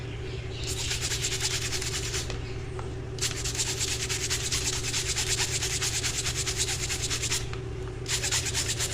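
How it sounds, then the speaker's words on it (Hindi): A stiff brush scrubs the inner sides of a water bottle being cleaned with a homemade cleaner, giving steady, close, continuous rasping strokes with a few brief pauses and a constant low hum underneath. "ये वाली जो इसकी साइड्स हैं, ये हम ब्रश से साफ़ करेंगे"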